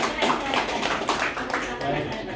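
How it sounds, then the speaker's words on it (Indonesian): A group at SMA Negeri 5 in Tangerang claps for the school silat team. The hand claps are scattered and fairly close, and voices talk over them. "kita tepuk tangan ya semuanya nih."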